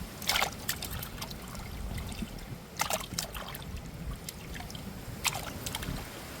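Fish is rinsed by hand in a vessel of water, giving a few brief sloshing splashes over a steady low background hum, with quiet trickling in between.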